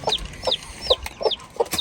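Several chickens cluck in a steady run of about six close, fairly loud calls, pecking at spilled bread outdoors, with no talking over them.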